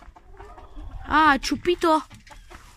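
Hens cluck in loud, close bursts in the middle of the clip, with softer clucks around them. A person speaks briefly.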